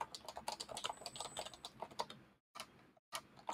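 Quick, uneven clacking of keys being typed on an HHKB keyboard, close and crisp, with brief pauses and a short silent gap near the end.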